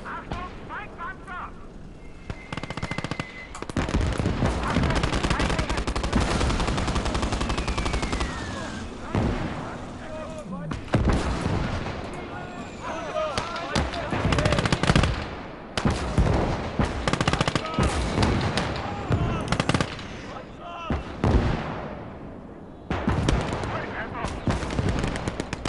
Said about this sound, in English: That was the machine gun, wasn't it?